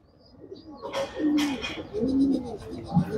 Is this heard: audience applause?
no